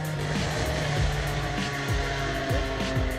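Alpine A310 sports cars lapping a race circuit in a demonstration run, engines revving and droning as several cars pass in turn, pitch rising and dropping with each gearchange and passing, loud and continuous.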